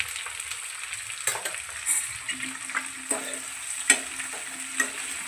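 Vegetables sizzle steadily in a hot pan as they are tempered, a dense crackling hiss with occasional louder clinks and stirring scrapes, close and continuous with no talking.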